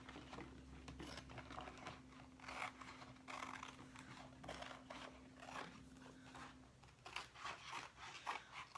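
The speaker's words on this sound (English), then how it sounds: "I thought you guys would like to watch me cut these apart" Wooden house shapes being cut apart, a steady run of quiet, close rasping cuts and snips with short bursts, faint throughout under a low steady hum.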